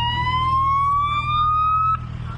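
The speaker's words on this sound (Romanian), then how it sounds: "Am văzut, aveai sirenele pornite." A police car siren on a street wails loud and near, one long rising tone that cuts off sharply near the end over a low engine rumble.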